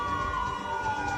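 An animated ambulance siren holds a single steady tone that slowly drifts downward over a brief moment, faint and alone, with nothing else heard.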